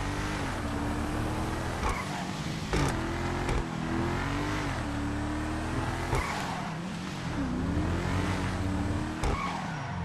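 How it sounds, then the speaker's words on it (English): Paragon R sports car in GTA Online revving hard, engine pitch rising and falling in repeated surges with sharp gear-change cracks and some tire squeal, loud and close throughout. "Sound you can enjoy listening to."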